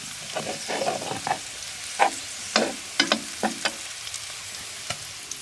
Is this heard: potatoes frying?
yes